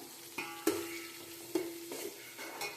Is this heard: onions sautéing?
yes